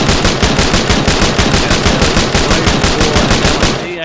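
A rifle in Arma 3 fires in a rapid, evenly spaced automatic burst of loud, close shots with no pause. The stream stops just before the end.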